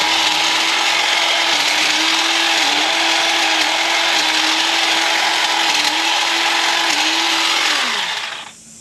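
A DeWalt cordless hedge trimmer buzzes steadily as it cuts through a mix of plants, its motor dipping briefly several times under load before winding down at the end.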